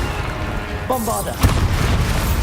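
A Bombarda spell blast in Hogwarts Legacy: a rising magical whoosh and sharp booming burst over a constant loud game background, with the burst landing about halfway through.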